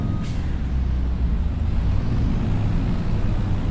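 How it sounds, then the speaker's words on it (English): Truck in Farming Simulator 25 heard from inside the cab, a steady low engine drone with a brief air-brake hiss near the start, constant and fairly loud throughout. "you can hear how quiet the truck is on the inside compared to the outside"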